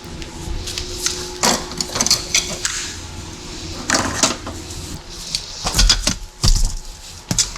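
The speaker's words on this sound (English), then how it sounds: "I love this drill brush here, this drill brush head here." Mechanical whirring and clattering with bursts of scrubbing as a drill-mounted brush head spins up and down against an SUV's surfaces during detailing, in short uneven spurts.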